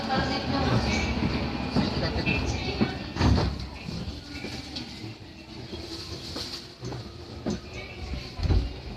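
JR Yamanote Line commuter train running between Tamachi and Kanda stations in Tokyo, heard from inside the car: a steady rumble of wheels and motor with occasional rail clacks and thumps, and a voice speaking over it.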